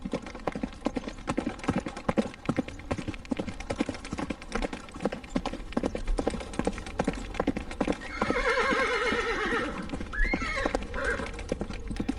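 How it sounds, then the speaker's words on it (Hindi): A ridden horse moves through a forest, its hooves clip-clopping in a rapid, steady rhythm throughout, and partway through it lets out a loud, drawn-out whinny over the continuing hoofbeats. "एक दिन वो शिकारी के भेष में घोड़े पर सवार जंगल में से गुजर रहा था।"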